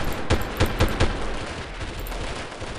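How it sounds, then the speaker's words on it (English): Gunfire from Charlie Team in Delta Force at the Uzbekistan junkyard: a quick run of four or five loud, sharp shots followed by softer, more distant scattered reports over a steady background rumble. "And I think that is Charlie Team firing shots."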